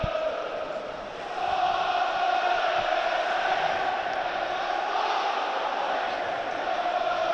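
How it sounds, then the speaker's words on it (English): Loud football crowd roaring steadily inside the Stadium of Light during a Middlesbrough match, a dense sustained wall of noise that swells after the first second and stays high throughout. "The crowd is so loud now inside the Stadium of Light."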